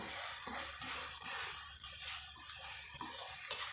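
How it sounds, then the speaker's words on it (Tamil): Boiled potatoes and peas being stirred into a curry in a pan: a soft continuous scraping and shuffling with faint utensil clinks, a brief sharper knock near the end. "இப்போ நம்ம போட்டுட்டு நல்லா பரட்டி விட்டுக்கோங்க"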